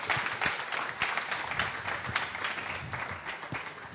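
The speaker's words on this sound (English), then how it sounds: "So give our wonderful panelists a round of applause" A crowd applauding steadily, a dense wash of many hands clapping at once with no pauses, moderately loud and continuous throughout.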